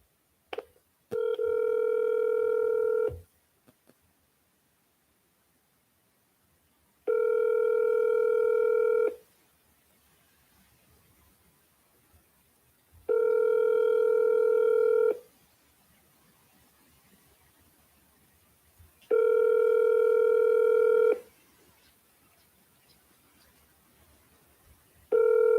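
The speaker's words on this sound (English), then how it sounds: "Let's see if I can get this guy on the phone." Telephone tones on a cold call: a steady ringback tone sounds in four evenly spaced bursts of about two seconds each, separated by silent gaps, with a short burst of dialing tones at the start.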